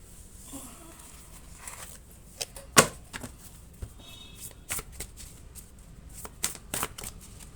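Tarot-style reading cards are shuffled and handled in short, crisp riffles and flicks, with scattered bursts and one sharper snap, close and fairly quiet.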